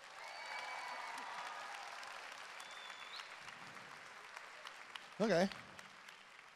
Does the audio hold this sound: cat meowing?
no